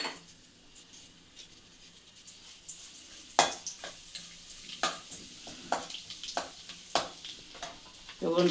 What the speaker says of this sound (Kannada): ಇವಾಗ ಸಾಸಿವೆ, ಜೀರಿಗೆ, ಒಂದು ಒಣಮೆಣ್ಸಿಕಾಯಿ ಹಾಕ್ತಾಯಿದ್ದೀನಿ